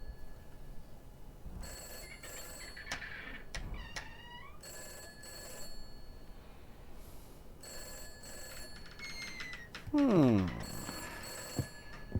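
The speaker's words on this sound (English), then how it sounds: "I wonder who it is that it keeps ringing the phone." A telephone in a video game rings in repeated bright, trilling bursts with pauses between them, heard over a steady background bed, with brief other game sounds and chirps mixed in.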